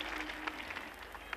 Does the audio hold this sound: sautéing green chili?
no